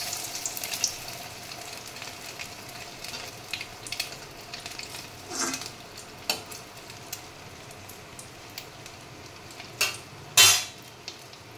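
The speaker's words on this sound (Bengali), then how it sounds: "ডিমের মধ্যে চুবিয়ে তারপরে তেলে দিয়ে দিই।" Egg-dipped katla fish cutlets fry in hot oil, a continuous soft sizzle with occasional louder pops and spatters and a few clinks of utensils against the pan, fairly close and without talk.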